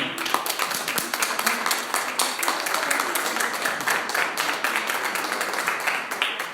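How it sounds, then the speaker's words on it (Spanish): Steady applause from a church congregation, dense clapping that fills the whole stretch at an even, moderately loud level with no speech on top. "Un aplauso al Señor."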